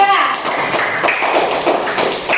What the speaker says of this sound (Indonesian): Kasih tepuk tangan buat kelompok 3